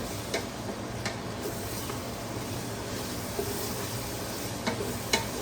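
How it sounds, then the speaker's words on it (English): Onions sautéing in a pan for hamburger soup give off a dense, even sizzle throughout, with a few sharp clicks of a utensil against the pan scattered over the top. "I'm just going to saute this and let the onions cook down"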